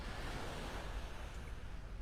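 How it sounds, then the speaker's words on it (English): Waves of the incoming tide wash steadily onto a beach in North Naples, Florida, a continuous broadband surf roar with light wind buffeting the microphone and no voices. "The tide coming in."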